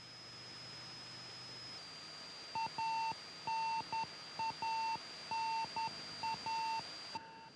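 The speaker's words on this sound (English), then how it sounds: "the sound you hear is a radio beacon signal that is being received from the Soyuz" A radio beacon signal received from the descending Soyuz MS-25 capsule beeps in short, irregular bursts of steady high tones over a constant faint hiss and static hum.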